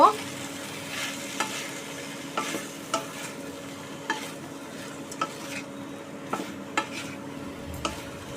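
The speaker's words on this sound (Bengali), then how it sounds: "এই সময় নাড়তে নাড়তে পরিমাণ মতো নুন দিয়ে দেব, দিয়ে আবারও কষিয়ে নেব।" Winter mixed vegetables being stir-fried with salt in a pan over medium heat: a steady low sizzle with regular scraping strokes of a spatula every second or so, close up, no voices.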